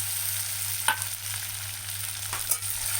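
Garlic, ginger and masala fry in hot oil with mustard seeds and curry leaves, a steady close sizzle with a couple of sharp crackles and pops as the pan is stirred.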